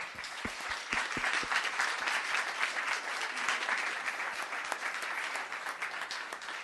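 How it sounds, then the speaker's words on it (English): Sustained round of applause from attendees at a town council meeting, a steady dense patter of many hands clapping throughout with a few sharper close claps near the start. "One more round of applause."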